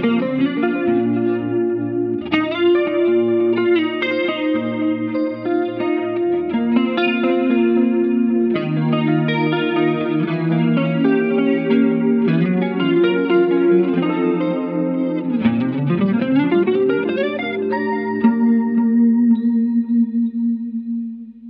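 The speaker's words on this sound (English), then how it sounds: "Let's add in some compression and the Julia together." Electric guitar through a Walrus Audio compressor and Julia chorus pedal, sustained chords and picked notes with a smooth, shimmering, wavering chorus tone and even dynamics, played alone for about twenty seconds.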